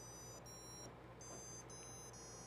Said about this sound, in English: So I'm adjusting a little buzzer pitch with